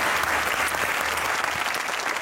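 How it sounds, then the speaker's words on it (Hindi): A studio audience at a televised celebrity interview claps steadily and densely for about two seconds, loud and close, with no voices over it. "ताली होनी चाहिए"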